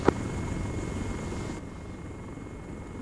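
Damaged helicopter main rotor in a video game, a steady droning whine and rumble that holds throughout, with a brief click at the start and no talk.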